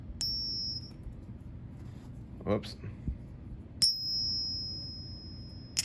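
Two silver Eagle dollar coins ring with clear, high sustained pings on a ping test, one early and one later, each fading slowly, with a quick spoken exclamation and soft handling noises between.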